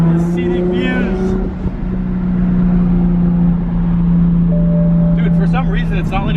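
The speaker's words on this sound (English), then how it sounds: "for some reason it's not letting me do a burnout" A big turbocharged BMW held in a failed burnout attempt, its engine droning loud and steady at high revs throughout with a voice talking briefly over it near the start and end.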